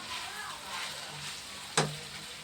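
Vegetables fry in a pan for curry, a soft continuous sizzle with a brief sharp clink of a utensil near the end, quiet and close.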